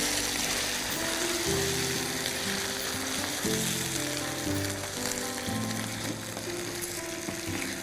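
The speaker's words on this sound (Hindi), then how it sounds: "ये मटन की पीसेस, अच्छी तरीके से इन्हें चला लीजिए।" Mutton pieces for Hyderabadi daal gosht sizzle loudly in a pan while being stirred, a dense steady hiss with rhythmic scraping and clanking of the spoon throughout.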